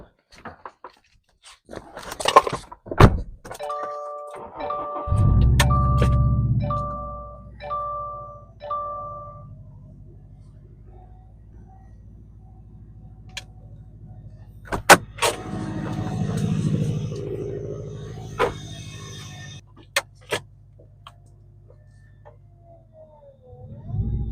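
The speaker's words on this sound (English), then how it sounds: "Which also means I need to back the car up." A Subaru STI starts up and backs onto ramps: warning chimes ding repeatedly, the engine catches and settles into a low idle, then swells with a brief throttle push before a few sharp clicks and knocks.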